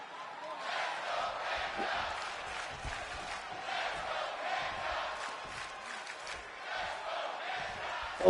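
A virtual arena crowd in the WWE2K26 wrestling game roars and cheers continuously as two high flyers get psyched up in the ring, a steady wash of crowd noise with a voice talking faintly underneath.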